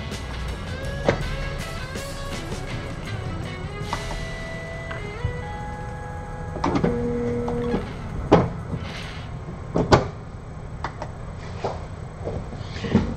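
A desktop printer being reloaded with paper and then printing, with clicks, clunks and whirring mechanical passes and brief motor tones over a steady low hum, heard close and alone.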